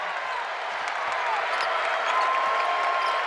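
A basketball arena crowd cheers and applauds after a game-tying three-pointer in Murray State at Western Kentucky. The roar is broad and sustained, swelling slightly toward the end, with faint voices mixed in.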